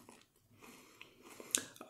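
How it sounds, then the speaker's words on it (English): A bite into crunchy Lay's Crunch Tators kettle-cooked potato chips, giving a sharp crunch followed by quieter chewing, heard up close with no talking. "We'll give them a try. Extremely crunchy."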